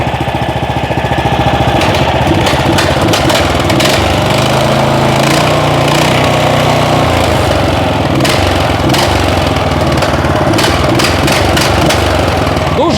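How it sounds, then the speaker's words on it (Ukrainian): A small Loncin petrol engine runs steadily at low, quiet idle, a continuous even drone with a fine rapid firing pulse throughout. "Працює лончин. Дуже тихенько."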